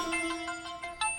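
A phone ringtone plays alone, a bright repeating electronic melody of short tonal pulses over about a second.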